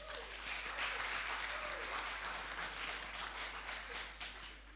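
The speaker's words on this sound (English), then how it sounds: "let's clap for ourselves" A room full of people applauding at a seminar, dense sustained clapping that stays loud throughout and tapers slightly at the end.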